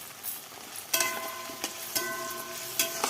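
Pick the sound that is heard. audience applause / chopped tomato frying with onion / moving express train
chopped tomato frying with onion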